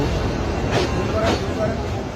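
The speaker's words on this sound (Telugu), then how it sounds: "బంగ్లాదేశ్లో మార్కెట్ మధ్యలో నుంచి ట్రైన్ వెళ్తుంది" Low, continuous rumble of a train rolling slowly through a market in Bangladesh, with faint metallic squeals riding over the steady drone.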